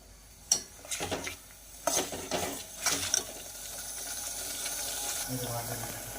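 Spiced masala paste fries in a pan for a spicy village-style chicken curry. A few sharp stirring scrapes come first, then a steady, moderately loud sizzle continues to the end.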